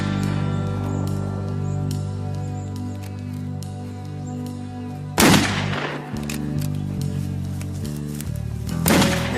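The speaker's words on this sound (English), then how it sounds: "Just had a report of gunshots in the paddocks behind the Hennessy place." Two sharp, loud gunshots crack out a few seconds apart over a steady background of sustained music tones.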